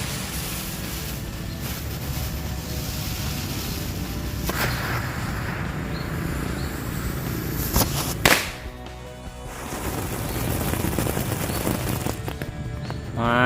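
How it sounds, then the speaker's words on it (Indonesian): A tank-type firecracker fizzes and crackles in a steady burst of sharp snaps and pops, with a louder bang near the middle before the crackling resumes. "Selanjutnya kita nyalain mercon tank"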